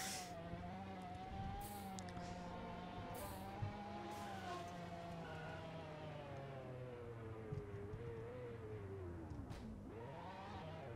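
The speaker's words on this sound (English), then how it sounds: "I can't drive because this freaking Lamborghini is going too fast." Lamborghini in the Roblox driving game DRIVE-SHAFT racing at speed, a continuous engine whine that shifts pitch up and down, with faint squeals and clicks over it.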